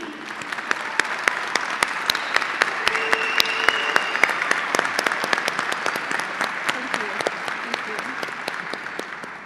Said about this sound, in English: Please help me give a warm Raider round of applause